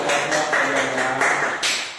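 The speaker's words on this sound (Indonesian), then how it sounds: "Tepuk tangan." Students in a classroom clap their hands together in a short burst of several rhythmic claps, close and fairly loud, with no talking over them.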